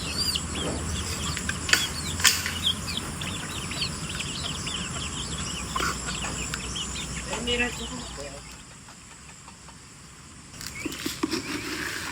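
Chickens cluck and chatter nearby over a steady insect buzz on a farm, with scattered louder calls and faint voices in the background.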